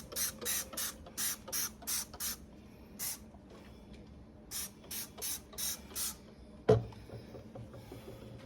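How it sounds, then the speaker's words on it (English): Short hissing bursts of Dawn Power Wash dish spray from a trigger bottle, many quick pumps in rapid clusters with pauses, up close, followed by a single sharp knock. "Dawn Power Wash. Let's give it a couple sprays."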